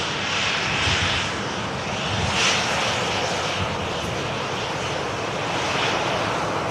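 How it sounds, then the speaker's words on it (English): Ryanair airliner taking off bound for Milan, a broad continuous jet engine roar heard from outside, steady and fairly loud with gentle rises and falls, no voices. "This second Ryanair heading out to Milan"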